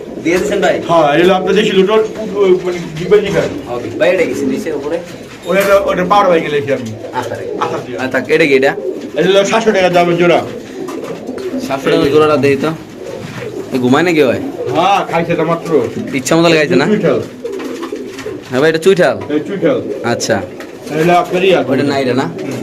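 Lotan pigeons coo steadily at a busy pigeon market, their soft repeated calls running beneath near, continuous talk from traders.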